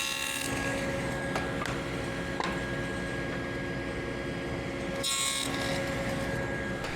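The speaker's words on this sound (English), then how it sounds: "And I'll do that using a dado stack in my table saw." A table saw fitted with a dado stack cuts wooden tenons, running with a steady whine and broadband buzz, and two louder bursts as the blade bites into the stock. No one speaks.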